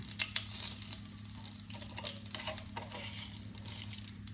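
Two bay leaves frying in hot oil left after frying potatoes, a soft continuous sizzle with faint crackles and stirring, fairly quiet and with no talking.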